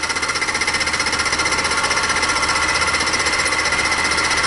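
A fly cutter on a mini mill climb-cutting aluminum, giving a loud, steady, rapidly pulsing machining chatter that continues evenly throughout, with no talking.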